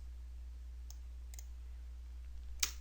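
A computer mouse clicks in SolidWorks CAD software: two faint clicks, then a sharper, louder click near the end, over a steady low electrical hum in a quiet room without speech.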